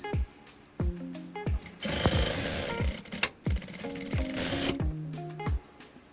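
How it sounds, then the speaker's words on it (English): A sewing machine stitches a curved seam on trouser fabric with a 1/2 inch allowance, running in several short whirring bursts of rapid mechanical stitching separated by brief pauses, close and moderately loud. "I'm going to use 1/2 inch to sew on the curved part"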